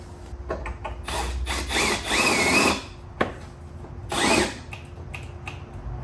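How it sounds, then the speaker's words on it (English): A power drill bores a bolt hole on a Subaru WRX, several loud whirring bursts separated by pauses, with a sharp knock between them, close by. "then we'll drill it from the back."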